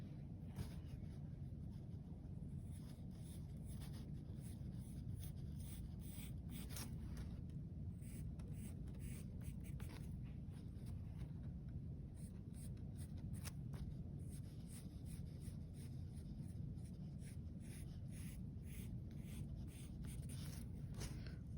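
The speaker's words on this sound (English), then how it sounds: "I'm going to use these 6 points to draw out my M" A pencil sketching lines on paper while drawing out a logo letter, a steady soft scratching and scraping that runs continuously and close, with faint irregular strokes and no speech.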